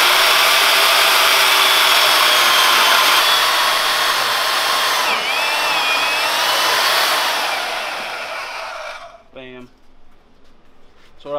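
A power tool cuts through a metal fork tube for a tandem mini bike build, giving a loud continuous high-pitched grinding whine that runs for about eight seconds before winding down and stopping.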